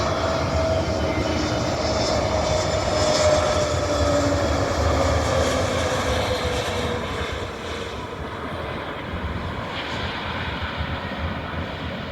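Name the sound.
IndiGo airplane landing at Kozhikode airport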